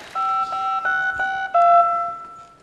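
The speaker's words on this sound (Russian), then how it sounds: "Давай Балуге, звони Балуге" A phone number being dialed: a series of electronic keypad tones, several short beeps followed by a longer held tone, clear and close with a faint murmur of an audience behind.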